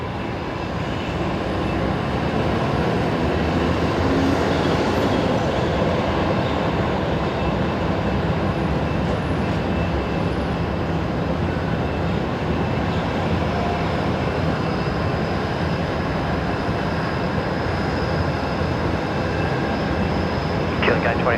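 A China Airlines airliner on final approach at Brisbane Airport, a steady distant engine roar and rumble sustained throughout, with faint voices underneath.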